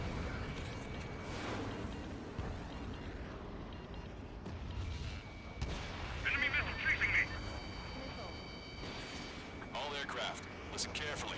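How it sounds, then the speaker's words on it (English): Missile launches and gunfire in the Ace Combat 7 video game sound as scattered, booming blasts and bursts under a layer of radio chatter, with a busy mix of effects and a brief high-pitched warning tone. "Strider 1, missile launched."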